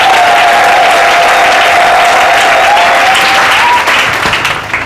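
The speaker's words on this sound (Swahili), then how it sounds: "Pigia Bwana Yesu makofi mazuri" Church congregation at a Swahili communion service applauds for Jesus, a loud, sustained wash of clapping with a faint crowd murmur and a steady tone running beneath, tapering slightly at the end.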